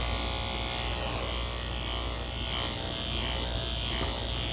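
Electric clippers with a 1/2 inch guard buzz steadily and loudly close by while grooming a Goldendoodle, a constant motor whine that shifts slightly as it moves through the coat.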